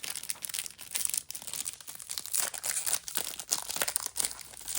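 Foil wrapper of a 2025 Topps or Bowman baseball card pack crinkles and tears up close, a busy stream of sharp crackles and rustles with brief pauses between handfuls.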